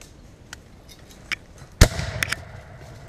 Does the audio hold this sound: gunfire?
yes